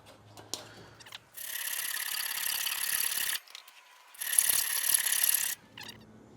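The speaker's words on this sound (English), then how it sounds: "Let's see how we go with the hacksaw." A hacksaw cuts through a steel shaft for a steam roller in a lathe workshop. Two long rasping bursts of back-and-forth strokes are close and clear, with a short pause between them.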